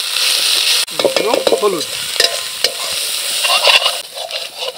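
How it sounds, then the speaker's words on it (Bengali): Spices with ginger fry in a pan while being stirred, a loud close sizzle broken by repeated scraping strokes of a spoon, with a brief spoken remark near the start. "আমাদের মশলা ভাজি হয়ে গেছে"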